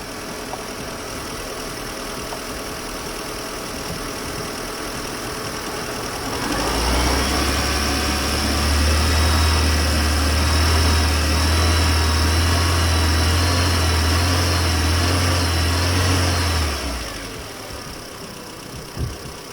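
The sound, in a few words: car engine revving to 2,500 RPM during a battery load test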